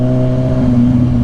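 A Kawasaki Ninja 1000SX motorcycle engine revving hard in first gear, a loud, close, steady growl with strong low harmonics held throughout, no speech.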